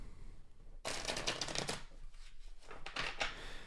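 A deck of flexible tarot cards is shuffled on a wooden table, giving a sudden riffling burst followed by a second flurry of crisp card flicks, close and quiet.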